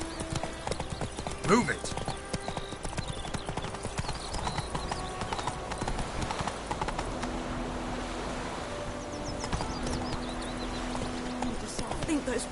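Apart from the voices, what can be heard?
horse hooves clip-clopping while riding in a video game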